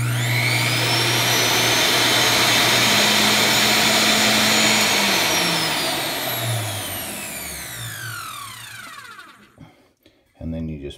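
A plunge router runs on a reloading bench, a loud steady high-pitched whine for most of the stretch, then its pitch falls away as the motor spins down near the end, followed by a brief restart or handling noise.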